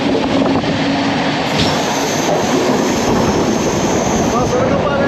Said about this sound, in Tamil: இப்போ வந்து நம்ம வந்து சுரங்கப்பாதையில் போகுது ட்ரெயின்